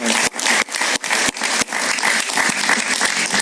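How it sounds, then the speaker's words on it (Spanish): Studio audience on a Spanish-language talk show claps steadily, a dense, loud wash of hand claps broken by a few brief dips, with no talking over it. "Un gran aplauso para Paciano Padrón"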